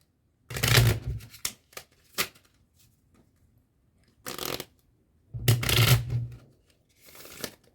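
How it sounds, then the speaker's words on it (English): A deck of playing cards is shuffled by hand in several separate bursts of riffling and flicking, close and crisp, with short quiet gaps between them and no talk. "and we can shuffle the card."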